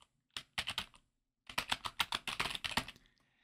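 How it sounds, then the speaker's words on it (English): Keystrokes on a computer keyboard while entering text in Photoshop Elements: two quick bursts of clicky taps, a short group then a longer run of about a dozen, close and clear with no talking. "You type in the text and it goes around the circle."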